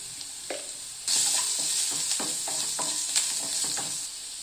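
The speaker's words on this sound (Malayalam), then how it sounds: "ഉള്ളി പെട്ടെന്ന് വഴറ്റി വരാൻ കുറച്ച് ഉപ്പിടാം." Onions sautéing in a pan with salt and turmeric, a close sizzle that jumps louder after the first second and holds steady, with rhythmic spatula scrapes and stirring knocks throughout and no speech.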